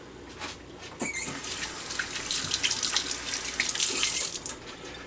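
Hot water is poured out of a pot holding a flat corned beef into a sink, a close, steady splashing stream with a few sharp knocks near the start, growing slightly louder toward the end.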